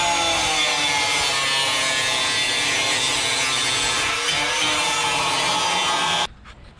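Steady, continuous sawing through a wooden platform board for a Mk4 GTI bash bar, loud and close, with a rapid rasping stroke that runs unbroken for about six seconds before stopping abruptly.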